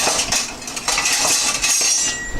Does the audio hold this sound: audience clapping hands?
no